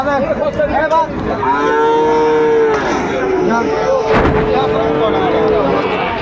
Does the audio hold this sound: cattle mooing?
yes